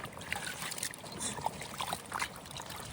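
A hand swishes through a tub of live crawfish in water for washing, soft sloshing and trickling with faint clicking shell splashes, quiet and intermittent throughout.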